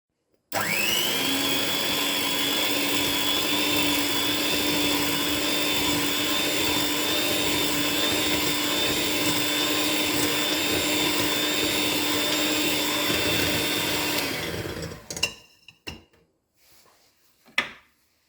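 An electric mixer beating butter and sugar whirs at a steady high pitch for about fourteen seconds, then cuts off, followed by a few light clinks and knocks.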